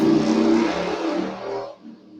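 A motorcycle engine revs loudly outside for a couple of seconds in a steady, rough roar, then quickly fades away.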